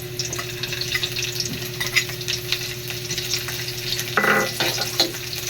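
Onions sauté with ginger in a pan for liver and gizzard adobo, a continuous close sizzle broken by stirring scrapes and a louder clatter near the end.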